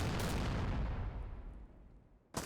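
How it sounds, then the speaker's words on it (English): Plastic explosives packed into an improvised explosive detonate against a base wall in DayZ, a single heavy blast with a long rumbling decay, followed by a short sharp burst at the end. "it blows up the entire wall and the frame with the second explosion"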